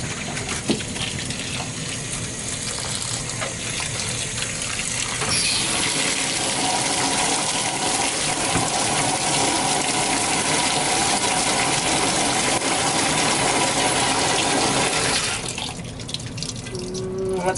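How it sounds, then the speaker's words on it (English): Hot water running from a tap into a sink, a loud, steady gushing rush that swells in the middle and carries on for about ten seconds before cutting back at the end. "Next step, I fill the sink with hot water."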